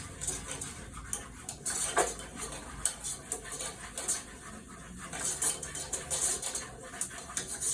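A whisk working a flour mixture in a pan until it thickens, quick irregular metallic clinks and scrapes against the pan over a soft hiss, close up, with no speech.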